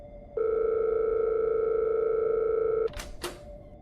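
A steady telephone dial tone hums for about two and a half seconds during a call, then cuts off, followed by a couple of sharp clicks.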